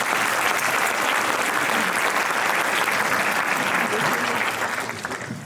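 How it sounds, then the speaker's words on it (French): An audience at a forum applauds a professor, dense sustained clapping from a full room that holds steady and then begins to thin out at the end. "Merci beaucoup professeur, on vous applaudit."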